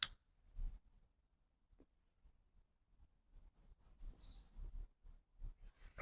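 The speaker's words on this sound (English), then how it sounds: "listening to the birds chirp." A small bird chirps faintly in the distance outdoors, a few quick high tweets then a short warbling call, over soft low rustling and handling noise.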